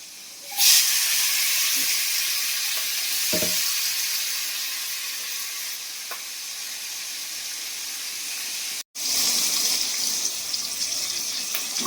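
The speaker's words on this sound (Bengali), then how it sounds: "আর এখানে আমার আলুটা সেদ্ধ করছে।" Potatoes boiling in a pot on a kitchen stove give a loud, steady hiss and bubbling roar that runs almost continuously, briefly cutting out near the end before resuming.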